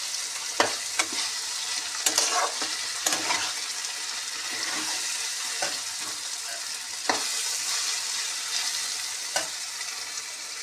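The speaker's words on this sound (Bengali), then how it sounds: "ভাজাটা এখনো কমপ্লিট হয়নি" Vegetables fry and sizzle in a pan while being stirred, with a loud continuous hiss broken by sharp scraping strokes of the spatula at irregular intervals, no talk.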